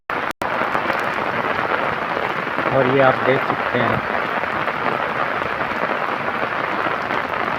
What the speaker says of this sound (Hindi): बारिश की शिद्दत बहुत ज़्यादा है और ये बारिश में ही मैं व्लॉग शूट कर रहा हूँ।